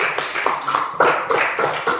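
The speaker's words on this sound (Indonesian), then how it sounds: "Tepuk tangan untuk Cika." A classroom of students claps for a classmate after she asks a question, giving a continuous patter of close, fairly loud hand claps with a few sharper accents.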